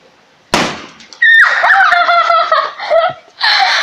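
A balloon bursts on someone's head with one sharp, loud pop, followed moments later by close, bursting laughter and giggling.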